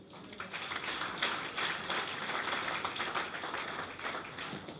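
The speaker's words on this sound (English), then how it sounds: "Why are you clapping?" Audience applauding at a political campaign event in Nigeria, a soft, steady patter of many hands heard from some distance, quite faint, with no clear speech.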